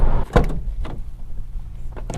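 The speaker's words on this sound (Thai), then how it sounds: "ประตูหน้าก็เปิดได้กว้างเกือบ 90 องศานะครับ" The front door of a Nissan Navara Calibre V pickup truck opens nearby with a sharp latch click followed by a few softer thuds and rustles, quiet and brief.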